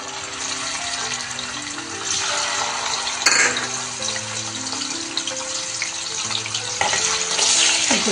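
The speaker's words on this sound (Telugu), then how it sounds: "కొద్దిగా ఫ్రై చేసుకోవాలి, కొంచెం సాఫ్ట్ అయ్యేంత వరకు." Paneer pieces fry in about two tablespoons of hot oil, giving a steady, hissing sizzle that holds throughout, with a few louder crackles and pops over background music.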